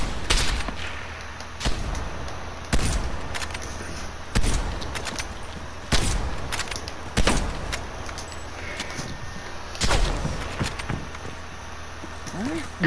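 Loud bursts of video game gunfire in a 1v1 match, sharp reports repeating every second or two with brief rapid volleys, while a voice talks over the shooting.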